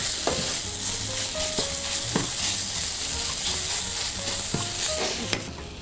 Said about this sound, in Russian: Пока дожаривается картофель